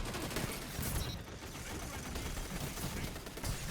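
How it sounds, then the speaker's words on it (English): Fast automatic fire from the Rampage gun in a video game, its fire rate raised, sounding as a dense, unbroken rattle of shots at steady loudness for a few seconds. "I wanted to try actually shooting when I had the Rampage with the increased fire rate"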